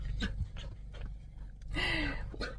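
A small furry dog pants in quick close breaths and gives a high whimper near the end, with a person's voice faintly under it.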